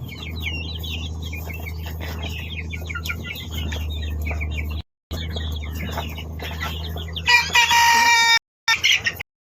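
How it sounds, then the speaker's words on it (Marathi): A rooster crows loudly in the evening on a village poultry farm, long repeated calls near the end over steady background bird clucking and chirps, with a couple of brief silent gaps. "आणि कोंबडा लागला ओरडायला"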